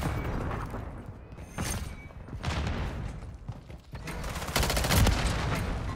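Rapid bursts from the Striker 9 gun in Call of Duty: Modern Warfare III, a fast-firing weapon, heard as several close, loud volleys of quick shots separated by brief gaps, with the densest burst near the end.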